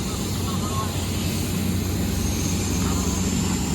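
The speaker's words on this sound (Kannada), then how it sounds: "This is a sea plane." A seaplane engine at a Maldives resort, giving a steady, loud, droning hum with a low tonal rumble that holds evenly throughout, with no clear speech.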